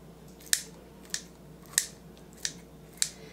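Kitchen shears snip through candied fruit for a fruitcake pie, five crisp, sharp clips spaced roughly evenly about half a second apart, close and fairly quiet against a faint room background.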